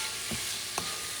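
Red beans stirred in a pot for Haitian red beans and rice, a steady close sizzle with two soft scraping strokes of the spoon, no voices.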